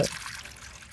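Salted mackerel rinsed under water makes a brief, soft trickle of running water with a small splash at the start.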